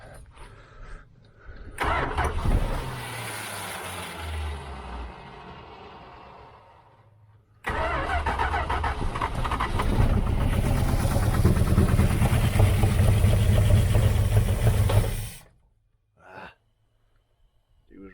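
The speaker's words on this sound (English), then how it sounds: "let's put some gas in it, see if she'll start, see if I can keep her running for a minute or two" A 1978 Dodge Aspen R/T under restoration cranks and briefly catches, dies, then cranks again and fires into a loud, rough idle for several seconds before cutting off abruptly.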